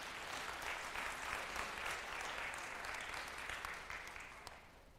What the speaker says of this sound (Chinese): 我们给他热情掌声一下。